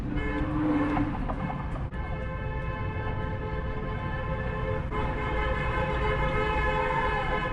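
A car horn honks steadily from a vehicle behind in night road traffic, a loud sustained toot over constant engine and road rumble, with a short break near the two-second mark.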